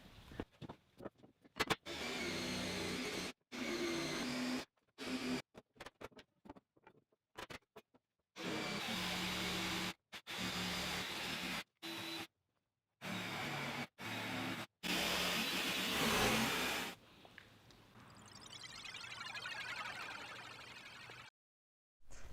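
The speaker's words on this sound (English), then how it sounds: "last night I did all the cuts with the jigsaw" A jigsaw cuts framing lumber for an interlocking bookcase in repeated loud bursts of buzzing, stopping and restarting between cuts, with a steadier, quieter mechanical whir near the end.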